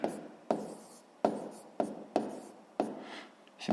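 Numbers are written by hand in a series of about seven short scratchy strokes, each starting sharply and fading, close and quiet with no talking.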